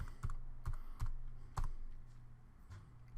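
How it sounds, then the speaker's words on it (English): A few separate, fairly close keystrokes on a computer keyboard typing a command into AutoCAD, spaced clicks with a soft background hum and no talking. "So I'm going to type in limits."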